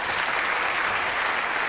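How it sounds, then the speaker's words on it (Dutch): A concert audience claps for the backing band at a live classics show, a continuous dense wash of many hands, full and even for the whole stretch, with no talking over it. "geeft ze een applaus."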